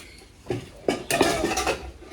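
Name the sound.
washing dishes, pots and pans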